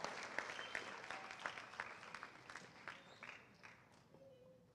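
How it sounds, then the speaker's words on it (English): An audience at a middle school moving-up ceremony applauds, a quiet patter of many hands clapping that fades gradually over a few seconds, with faint voices underneath. "Please continue the round of applause for these academic scholars"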